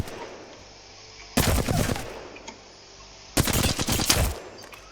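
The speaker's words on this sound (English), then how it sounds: "strafe while you're shooting. That gives you kind of just pretty much aimbot with the flatline" Two loud, close bursts of rapid automatic fire from the Flatline assault rifle in Apex Legends, each lasting under a second with a quiet gap of low background game ambience between them.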